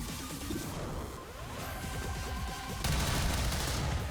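Flanking gunfire in XCOM 2 Long War of the Chosen, a dense rattle of rapid shots and impacts, fairly quiet and steady throughout, swelling slightly louder near the end.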